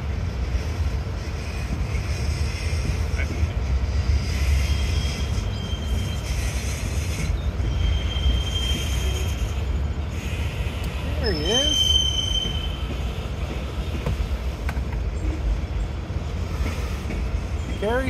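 A northbound CSX mixed manifest freight passes steadily with a BNSF gondola in its consist, a continuous low rumble of rolling cars with faint squeals and wind buffeting the microphone.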